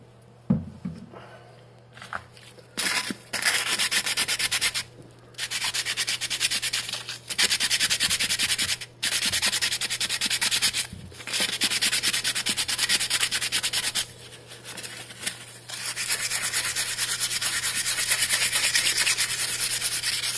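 Aluminum wheel wet-sanded with 1000 grit sandpaper and oil lubricant, close rhythmic rubbing strokes in long bursts separated by short pauses, with a steady low hum underneath.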